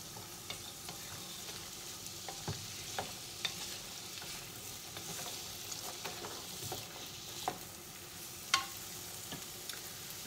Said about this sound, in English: I'm going to just keep frying these off until they're transparent